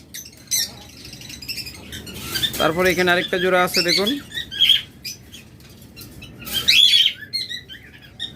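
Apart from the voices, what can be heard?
pet birds chirping, blue opaline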